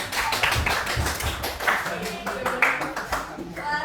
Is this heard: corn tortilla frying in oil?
no